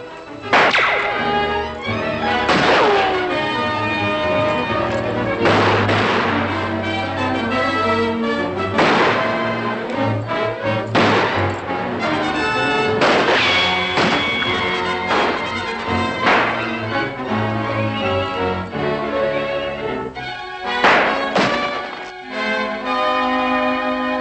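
Gunfire from a 1943 Hopalong Cassidy western shootout, with several sharp cracks spaced irregularly across a loud, continuous orchestral score.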